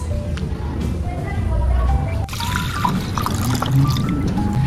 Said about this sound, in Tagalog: Ilagay ang 4 cups hugas bigas.